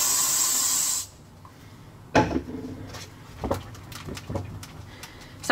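A burst of hair spray hisses for about a second onto short, fine hair being smoothed back into a bun, then cuts off to quiet handling noises and faint rustles.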